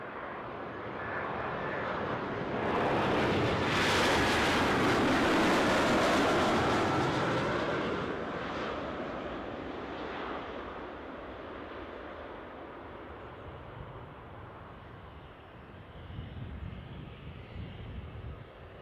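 An airplane passes close overhead at Newcastle airport, a broad roaring engine rush that swells to a loud peak with a falling whine, then fades into a lingering distant rumble.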